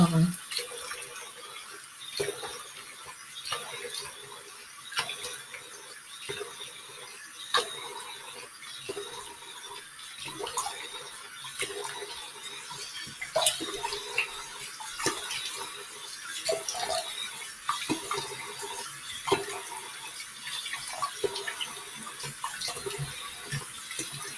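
Warm tap water runs steadily into a sink for washing the face, a continuous close splashing flow with small clatters and drips throughout.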